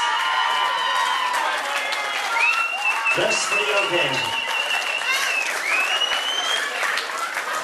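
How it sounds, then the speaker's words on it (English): An audience gives John a round of applause before his poem presentation, steady clapping mixed with cheers and crowd noise while voices talk over it. "Give John a big round of applause."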